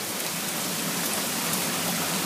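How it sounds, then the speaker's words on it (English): A heavy downpour of rain pounds steadily during a thunderstorm, a dense, even roar of falling water with no pauses, no thunder and no voices. "The rain, it's like a heavy downpour."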